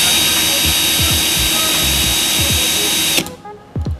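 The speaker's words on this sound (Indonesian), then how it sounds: "Tes yang kedua, di speed 2-nya mainnya berapa?" A Stanley FatMax cordless drill runs steadily at speed 2, a loud continuous whir with a faint pulsing hum beneath, then cuts off abruptly near the end and leaves a quiet room with light handling noise.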